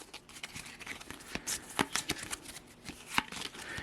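Numbsters board game cards being shuffled, a quick run of crisp riffling and tapping bursts, close and fairly quiet with no talking.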